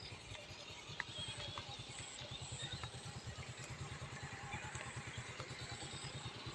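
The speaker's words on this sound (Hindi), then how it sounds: "आगे से बाइक आ रही है।" A motorcycle draws closer along a village road past orchards, its engine a faint, steady, rapidly pulsing putter under a background hiss.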